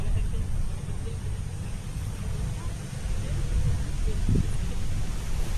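Steady, rushing wind buffets the microphone with a low roar throughout, with faint rustling of plastic mulch and a voice speaking briefly underneath.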